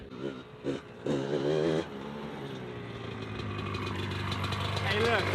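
A 21-year-old Honda CR 250 two-stroke motorcycle engine running close by, with a steady idle that brightens into rising revs toward the end, a person speaking briefly over it at the start.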